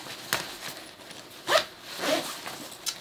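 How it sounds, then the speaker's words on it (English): Zip on the gaiter of a Volcom Swift snow bib overall being pulled, a couple of short, close ratcheting zips separated by small handling rustles, quiet with no talking. "Gaiter with a zip right there."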